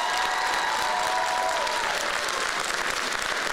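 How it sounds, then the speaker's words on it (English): Crowd at a school rally in Washington, DC breaking into loud sustained applause with some cheering and whistles, dense and continuous throughout. "We'd like to thank our students from Florida one last time with a big round of applause."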